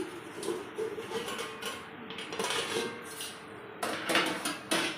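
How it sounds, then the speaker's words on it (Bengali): A cooking pot of lau shak greens with shrimp, covered on a gas stove with the flame turned low, has its lid lifted off: a few close clinks and scrapes of metal, then the soft bubbling of the simmering pot, with no talking. "তো ঢাকা দিয়ে রেখেছিলাম, ঢাকাটা খুলছি এখন।"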